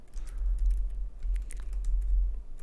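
Computer keyboard keys are pressed during Photoshop editing work, a quick uneven run of light clicks and taps over a low steady hum, with no talking.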